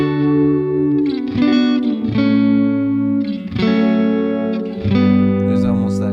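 Electric guitar played through a Strymon Olivera oil can delay set to its shortest time, giving sustained, warbling chords with short smeared repeats and a surfy tone, several strummed phrases in a row, loud and close.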